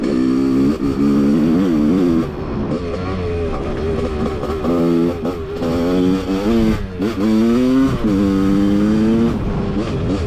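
Suzuki RM dirt bike ridden through village streets and everyday trails, its engine note rising and falling steadily as the rider rolls on and off the throttle, close and loud throughout with no talking.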